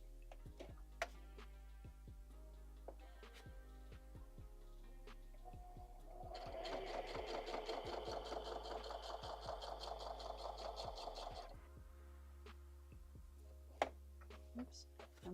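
A sewing machine stitches through junk journal pages for a watercolor pencil art journal, a rapid rhythmic run of needle strokes lasting about five seconds, framed by scattered ticks and handling clicks before and after.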